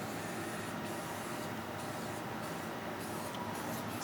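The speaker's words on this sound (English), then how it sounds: "you want to get your springform cake tray and you want to oil it up so that nothing sticks." Oil sprayed liberally from a can onto a springform cake tray, a steady hissing spray in several close bursts over continuous noise.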